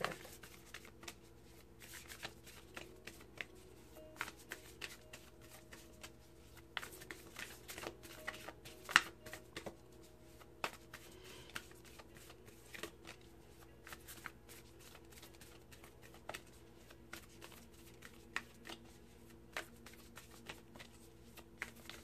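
Work Your Light Oracle cards are shuffled by hand, giving a quiet, continuous papery riffle and patter with small irregular taps for over twenty seconds, close and alone.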